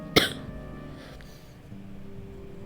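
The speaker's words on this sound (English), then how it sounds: "Excuse the coughing." A single sharp cough bursts out close to the microphone, then trails into quiet room tone with faint background game sounds.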